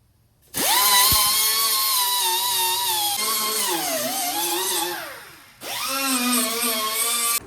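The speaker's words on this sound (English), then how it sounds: "So let me get my grinder or this thing back out. We'll do some grinding, clean up some metal." Power grinder on metal from a 1978 Ford tailgate, close and loud, spinning up to a sustained whine that sags under load, winds down, then revs back up.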